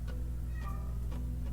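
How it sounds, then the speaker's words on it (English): A house cat meows softly in the background, two or three short calls over a steady low hum, heard at a distance in a quiet room. "That is my cat in the background."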